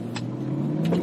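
Porsche Cayenne S Diesel V8 engine, a steady low hum held close and loud for about a second, with a faint whirring rise near the end and no talk.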